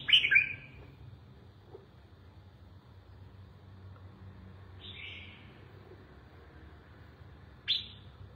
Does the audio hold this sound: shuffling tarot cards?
no